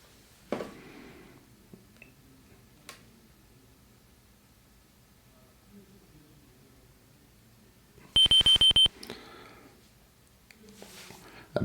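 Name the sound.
wristwatch beeping in Space Quest II video game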